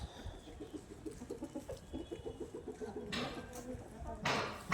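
Chickens cluck in a steady run of short, repeated calls, close by, with some rustling and a few bursts of broadband noise toward the end.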